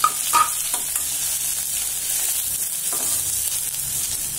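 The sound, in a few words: cashews, ginger and curry leaves frying in pan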